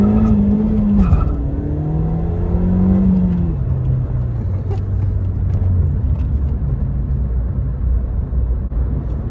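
A Ford Fiesta ST pulls hard in first gear from inside the cabin, engine note rising steadily in pitch and then dropping as it shifts, a loud continuous drone with road roar underneath.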